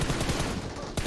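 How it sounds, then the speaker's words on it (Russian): Rapid automatic fire from an AUG rifle in PUBG Mobile clatters in a fast, steady burst lasting about a second, moderately loud over faint voices. "Там аук сейчас стреляет."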